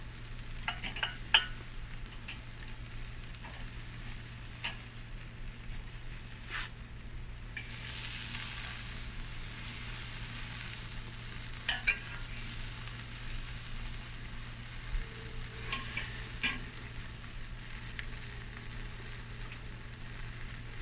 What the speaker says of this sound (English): you can see that delicious fat and oil in the pan sizzling away